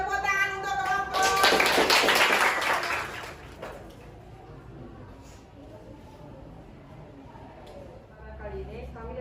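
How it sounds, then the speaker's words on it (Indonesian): A classroom group gives a short burst of applause for a presenting team, rising quickly and fading within a few seconds, with people talking before and after. "Kita kasih tepuk tangan untuk kelompok."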